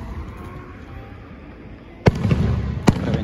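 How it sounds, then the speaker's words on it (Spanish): Fireworks burst at a July 4th celebration in Altoona, Wisconsin, two sharp bangs about a second apart after a quiet outdoor stretch, heard from a distance. "reventando los cohetes."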